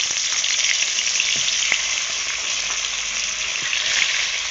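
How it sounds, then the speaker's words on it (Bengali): Fish fry in hot oil with a close, bright sizzle and scattered pops and crackles, continuous throughout without any talking. "তেল গরম হয়ে গেছে, একে একে মাছগুলো দিয়ে দেবো।"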